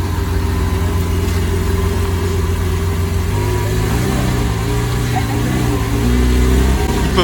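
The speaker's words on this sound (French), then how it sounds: "vous allez avoir droit au départ de cette SVJ coupée" Lamborghini Aventador SVJ coupe in Arancio Atlas orange pulling away at a Paris car meet, a loud, steady low engine drone that swells and deepens as it revs, close by with crowd noise underneath.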